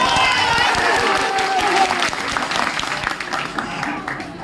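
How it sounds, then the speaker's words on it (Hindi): Crowd clapping at an outdoor political rally, a loud, dense burst of applause from many people with a faint voice briefly audible underneath, tapering slightly toward the end. "एक बार इनके लिए ताली हो जाएगी।"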